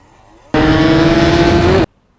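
A Suzuki Satria two-stroke motorcycle with tuned compression accelerates hard, its loud, buzzing engine note holding steady and close for just over a second before cutting off abruptly.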